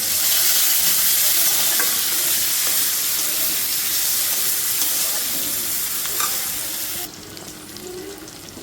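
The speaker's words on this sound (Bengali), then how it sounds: "মাছের আলু ভেজে নিচ্ছি" Potatoes for a fish curry fry loudly in hot oil in a pan, a dense, continuous sizzle with stirring that drops abruptly quieter near the end.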